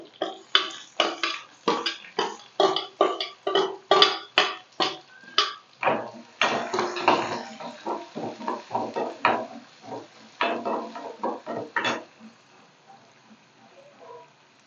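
Onion tipped into hot oil with green chillies and curry leaves for a tomato chutney, with a quick run of loud metallic clanks from stirring in the pan, then a softer, steady frying crackle with scattered scrapes.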